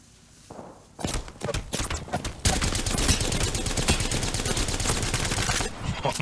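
Rapid gunfire from a weapon in Apex Legends, bursting in after a quiet second and running loud and dense with sharp repeated shots to the end, with a brief early volley before the sustained stream.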